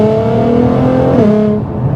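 A full bolt-on R35 Nissan GT-R accelerating hard, its engine note loud and close with a steady rising harmonic drone that shifts pitch near the middle as it pulls through a gear, no talk over it.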